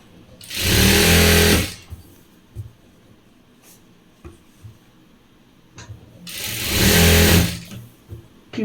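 Domestic sewing machine stitching a pillow cover, running in two steady whirring bursts about a second long each, close and loud, with quiet handling noises and pauses between.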